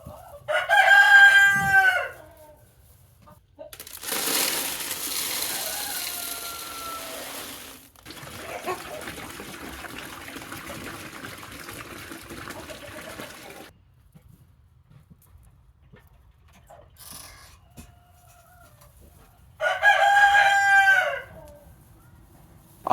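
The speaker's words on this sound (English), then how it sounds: "let's see if the chickens know what to do." Chickens in a coop being given a new feeder and waterer: a rooster crows loudly near the start and again near the end, with a stretch of hissing, trickling water and faint clucks between.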